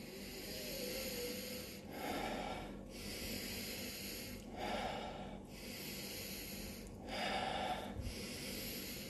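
Slow, deep breaths drawn in and pushed out in a steady rhythm, airy and close, about three full cycles with no talking.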